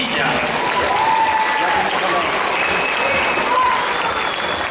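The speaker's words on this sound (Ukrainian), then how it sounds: "Отож, вони заслуговують гучних аплодисментів." Loud applause for the contestants at a Miss Starokostiantyniv 2017 pageant, a dense, even wash of clapping from a large crowd that carries on without pause throughout.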